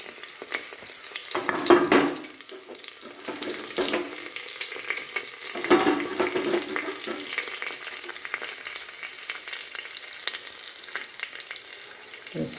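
Ginger, garlic, green chilli and whole spices hit hot oil and sizzle loudly up close, with bursts of crackling and stirring scrapes that ease into a steady fry.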